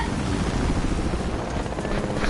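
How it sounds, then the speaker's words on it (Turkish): A helicopter in a video game gives a steady, dense rotor and engine roar that stays constant and fills the whole moment, with no clear speech over it. "Helikopter."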